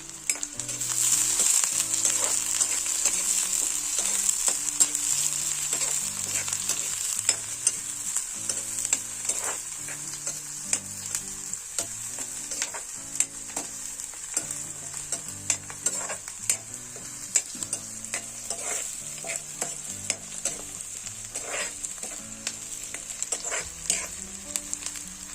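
Chillies, garlic and green chillies sizzle and crackle steadily in a hot pan, a continuous close frying hiss with occasional stirring clinks throughout.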